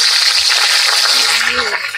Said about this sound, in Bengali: তেল গরম হয়ে গেছে, এবার আমি ফুলকপিগুলো দেবো